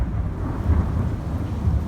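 Thunder from an intense severe thunderstorm with wind gusts and pea-sized hail in Lincoln, a steady low rumble that stays loud and continuous throughout, with no voices.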